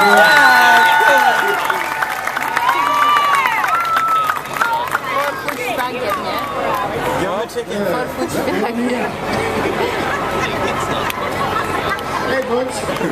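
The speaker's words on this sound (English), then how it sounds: "How about it, folks? Give him a nice big round of applause." A crowd claps and cheers at an alligator-catching show, the applause loudest at the start and then settling into steady clapping and chatter, with a voice talking over it throughout.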